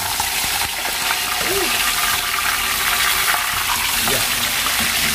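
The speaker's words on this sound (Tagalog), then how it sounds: "Prito-prito muna tayo ngayon." Fish fries in oil in a wok-style pan, a loud continuous hiss and crackle of sizzling close by, with faint voices in the background.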